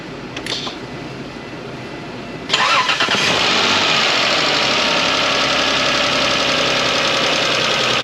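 Isuzu Rodeo 3.2 engine after a timing belt replacement cranks briefly, then catches and settles into a loud, steady idle with a faint ticking of valve noise, close and alone.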